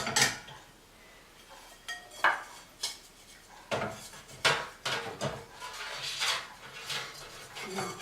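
Plastic container lids and dishes clatter and knock as a kitchen cupboard is organized, with irregular clinks and rattles of varying loudness close by.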